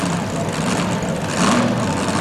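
A homemade pulling tractor called the Red Fox runs at a tractor pull, its loud, rough engine droning steadily with a brief rise in pitch near the end, under crowd and arena noise.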